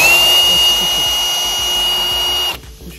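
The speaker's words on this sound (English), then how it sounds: "So you can get a drill." A power drill runs continuously at high speed with a steady whine for about two and a half seconds, then cuts out, while making racing seat brackets in a workshop.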